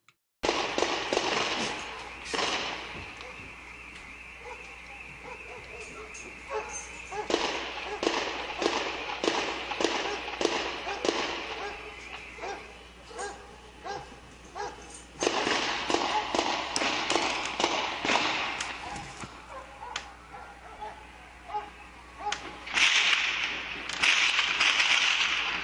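Explosions and gunfire down a city street during the police standoff after the Boston Marathon bombing, a long run of sharp cracks and bangs, some in rapid bursts, heard at a distance with voices talking over parts of it.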